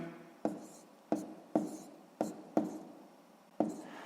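A pen scratches across paper while math notes are jotted down, about six short strokes in an uneven rhythm, each a soft, close scratching burst that quickly fades.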